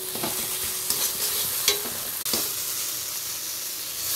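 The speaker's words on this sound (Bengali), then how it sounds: "ভালো করে নেড়ে চেড়ে ভেজে নেব মশলাটা" Hand-ground spice paste of green chilli sizzles and fries in a pan as it is stirred, a constant loud hiss broken by scraping strokes of the spoon, with no talking.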